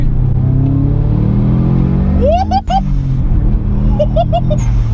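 A turbocharged 1996 UK-spec Subaru Impreza engine revs up and surges as it accelerates, boost coming in around 4,000 rpm, with a rising whine and a sharp whoosh, loud and close under the driver's talk.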